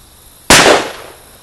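A single loud gunshot from a single-action Rossi gun fired outdoors, a sharp crack that decays over about half a second, with no talking.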